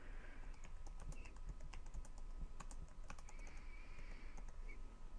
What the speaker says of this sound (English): And then go over and start typing all the values.